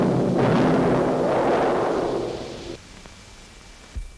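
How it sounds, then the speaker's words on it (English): A 4-pound dynamite charge set off underground for seismic oil exploration, a broad, rumbling roar that holds for a couple of seconds and then drops away, followed by a faint thump. "4 pounds of dynamite in this charge."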